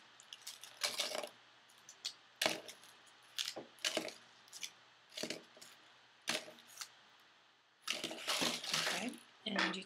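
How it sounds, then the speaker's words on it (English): Foil wraps are pulled off gel-polished nails during Gelish soak-off removal, a string of short crinkling, crunching bursts at close range in an otherwise quiet room. "So all you have to do now is remove the foil."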